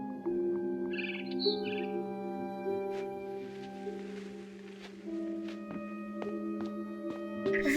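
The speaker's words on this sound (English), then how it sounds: "Then I heard chirping outside my window." A barn swallow chirps in the game What Remains of Edith Finch, giving a few faint, short tweets against soft, sustained background music tones.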